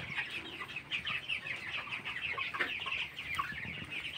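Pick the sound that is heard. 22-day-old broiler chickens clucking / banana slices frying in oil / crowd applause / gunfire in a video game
22-day-old broiler chickens clucking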